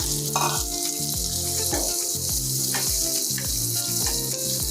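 Vegetables for restaurant-style veg fried rice frying in a pan, a steady loud sizzle with rhythmic scraping and stirring strokes throughout, no voices.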